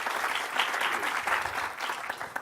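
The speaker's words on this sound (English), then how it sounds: "round of applause" A crowd applauds steadily after a presentation at a startup conference, a dense wash of clapping that holds at an even level throughout, with no voices over it.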